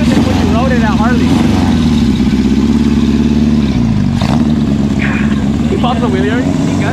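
Engine of a 1972 Honda CB750 motorcycle revving during a ride, a loud steady drone that rises and dips with the throttle, while people talk over it.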